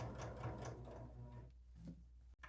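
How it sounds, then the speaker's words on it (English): A sewing machine stitches binding onto a quilt, its fast steady mechanical hum running for over a second and a half before easing off, close and alone. "I'm just going to start sewing"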